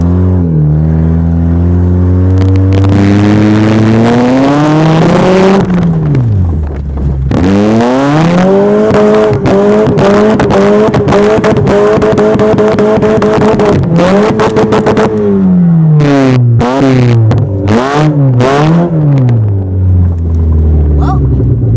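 A car doing a long tire burnout on the deck of a flatbed tow truck, its engine revving hard and rising and falling in pitch over and over, very loud and close, with tire squeal and rumble throughout.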